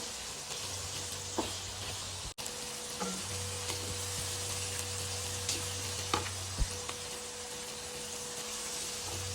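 Tomatoes roast in a pan for a pumpkin curry with a quiet, even sizzle that runs throughout. A few soft clicks and scrapes of stirring come through, and no one speaks.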